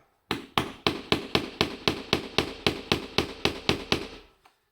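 A small screwdriver taps a fire surround board in a run of about fifteen sharp, evenly spaced knocks, each ringing briefly and decaying, close and fairly loud with nothing else heard.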